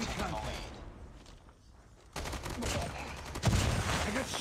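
Gunfire in the Call of Duty Mobile shooter game, with bursts of shots through a dense battle mix that drops briefly and returns louder, plus a heavy impact near the end and voices faintly in the background.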